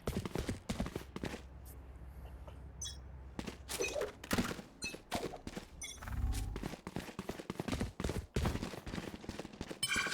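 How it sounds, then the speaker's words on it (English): Gunfire in the video game Valorant during a tournament match, rapid sharp shots and bursts rattling repeatedly in irregular clusters, loud and close, with game effects between them. "Turret out."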